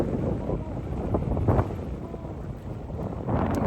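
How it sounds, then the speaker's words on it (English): Wind gusts across an open reservoir while out fishing by boat, a steady broadband rush with small swells, loud and close at the microphone throughout. "the wind is blowing now"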